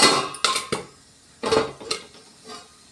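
Popping beneath a closed lid on a pot while food cooks for a Mahalaya Amavasya meal: about five sharp, irregular pops and bursts, close and fairly loud, with quiet gaps between them.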